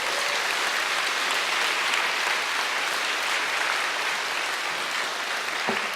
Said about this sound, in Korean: 목사님 미주 집회 다녀오셨는데 환영의 박수로 맞이하시겠습니다